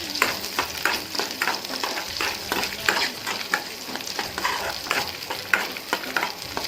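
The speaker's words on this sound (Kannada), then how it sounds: "ಇವಾಗ ನಾನು ಒಂದು ಈರುಳ್ಳಿ ಮೂರುಳ್ಳಿ ಉಂಡೆ ಬೆಳ್ಳುಳ್ಳಿ ಹಾಕ್ಕೊಂಡಿದ್ದೀನಿ ನೀವು ಒಂಚೂರು ಆಯಲ್ ಹಾಕ್ಕೊಂಡು ಹುರಿಬೇಕು" Onion and garlic fry in a little oil for sambar, a steady close sizzle broken by regular stirring scrapes throughout, with no voices.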